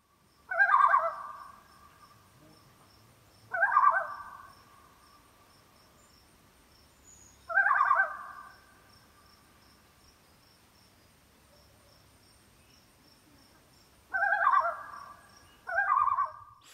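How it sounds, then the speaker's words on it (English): A great northern diver (loon) gives five separate calls that carry clearly over a quiet background. They are spaced a few seconds apart, with a steady faint insect-like chirping underneath. "Great northern diver, loon,"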